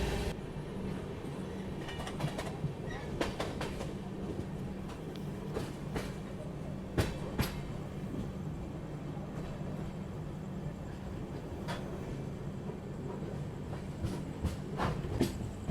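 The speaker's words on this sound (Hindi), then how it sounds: "राजधानी यहाँ पे अपनी लूप से ओवरटेक कर रही है रायलसीमा एक्सप्रेस को" The 22692 Bangalore Rajdhani Express overtakes the Rayalaseema Express on a station loop line, giving a steady, loud rolling rumble with recurring wheel clicks and clatter over the joints that run continuously throughout.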